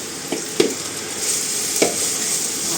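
Brussels sprouts sizzle in a frying pan as part of a rustic pan-fry, with a constant close hiss broken by a few soft taps of stirring.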